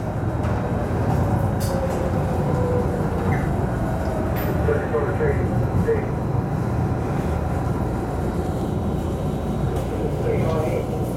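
A steady, loud rumble of a MARTA Red Line subway train running northbound on the tracks in Atlanta, with continuous rattling and occasional faint squeals throughout.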